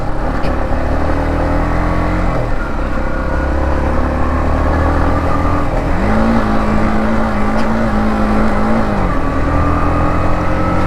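A 2025 Yamaha MT-15 motorcycle rides off-road, its engine droning loud and close, easing off and then climbing again in pitch as the rider accelerates, continuous throughout.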